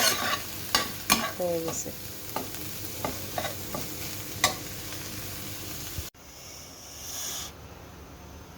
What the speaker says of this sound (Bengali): আমি চিংড়িটা একটু ভেজে নিই।